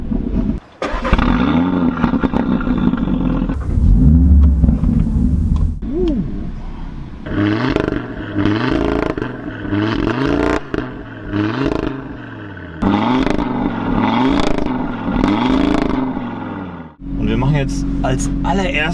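An Audi RS3 five-cylinder engine, finished in Catalunya red, starts up with a loud blare, then revs repeatedly in sharp rising and falling bursts close by, while people talk over it.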